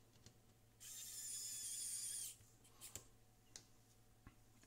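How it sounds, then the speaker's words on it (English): Short black screws being driven back into the casing during an EV200D repair, a steady high-pitched whirring rasp lasting about a second and a half, close by, followed by a few faint clicks and taps. "Now we can take the four black screws, the black short screws, screw them in again."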